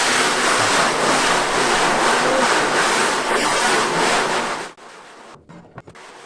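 Water sprayed under pressure onto a screen-print stencil to wash out the design, a loud continuous hiss and splash lasting several seconds before stopping, followed by a few faint drips and knocks.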